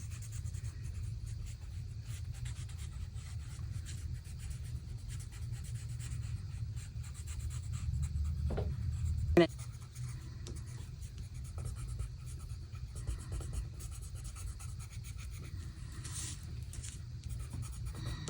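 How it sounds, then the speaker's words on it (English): A freshly sharpened watercolor pencil held at an angle, scratching steadily across a card to fill in snow, a soft continuous rubbing close by with one sharper tap midway and no talk. "if you give your watercolor pencil a fresh sharpen and just kind of hold it on the angle, then you can fill in this snow pretty quickly"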